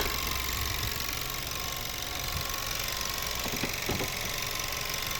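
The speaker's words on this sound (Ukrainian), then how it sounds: "класно дуже працює двигунчик" A 2018 Buick Cascada's 1.6 turbo petrol four-cylinder, with automatic transmission, runs at a steady idle, its even hum and faint ticking holding constant up close.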